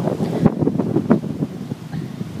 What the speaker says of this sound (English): But it's windy, a little bit rainy